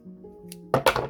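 Scissors snip through fabric scraps during a craft project, two quick, close crisp cuts near the end after a quiet stretch, with no talking.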